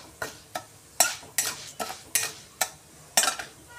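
Lentils (dal) being roasted in oil in a pan while making curry-leaf chutney, heard as a series of about ten sharp stirring scrapes and clinks of a utensil against the pan, evenly spaced over a faint sizzle, with no talking.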